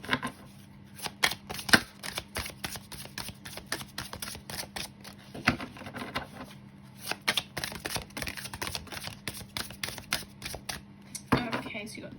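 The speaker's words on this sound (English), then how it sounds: "I'm going to pull out some cards from my Butterfly Oracle deck" A Butterfly Oracle deck shuffled by hand gives rapid, crisp card flicks in repeated bursts with short pauses, close and fairly loud over a steady low hum.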